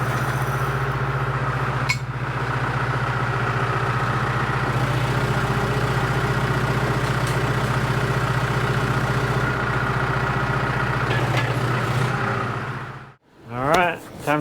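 A John Deere 210LE tractor engine idles steadily at a constant mid-pitched rumble for most of the stretch, then cuts out abruptly near the end, followed by a brief rustle.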